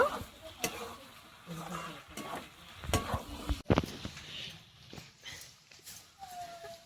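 Chopped tomato with meat masala is stir-fried in a pan for egg chowmein, with uneven scraping and clattering stirring strokes over a soft, low sizzle.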